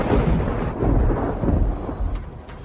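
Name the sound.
rain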